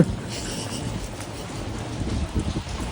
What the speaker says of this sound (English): But now it's raining.